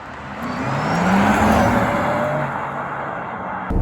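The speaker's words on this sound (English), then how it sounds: "we've also got electric sport sound. Now this is a bit of a disaster because it doesn't sound sporty" Synthetic electric sport sound from a Porsche Taycan, a smooth whirring tone that swells and glides upward in pitch, steady and fairly loud, with no talking.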